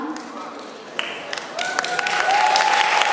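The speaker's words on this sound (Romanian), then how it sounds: "Aplauze!" Applause builds from scattered claps into fuller clapping from an audience at a high school freshman ball, rising in loudness, with voices and a held tone mixed in.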